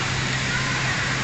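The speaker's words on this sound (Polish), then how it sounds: "Piękny wodospad, patrzcie." Steady broadband rush of an indoor waterfall inside a large Bangkok shopping mall, continuous and fairly loud, with a low hum underneath and no break across the short stretch.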